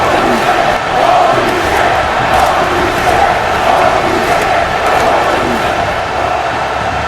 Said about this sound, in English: And the crowd is reacting in just that way.